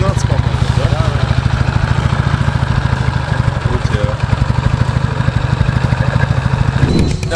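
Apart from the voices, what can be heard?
Ural motorcycle engine running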